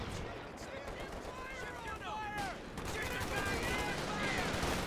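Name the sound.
machine gun fire in video game Company of Heroes 2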